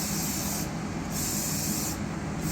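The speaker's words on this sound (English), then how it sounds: "you always want to spray your cans just to make sure before you start spraying your cup" An aerosol spray paint can hissing in two short bursts while testing before painting a tumbler cup, a close, steady broadband hiss with a brief pause between sprays and no talk.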